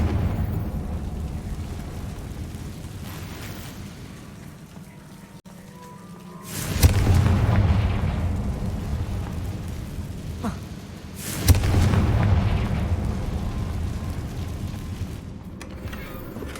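Two loud blasts from the Confringo fire spell in Hogwarts Legacy, one at about seven seconds and another near twelve, each a sharp boom that trails into a rumbling, crackling roar over a constant low game ambience.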